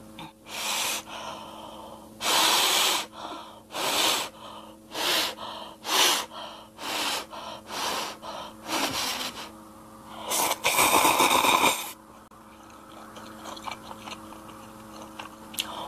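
Dry Shin Ramyun noodles are eaten up close in a Korean mukbang, with repeated bursts of slurping and breathy chewing in an irregular rhythm and no talking.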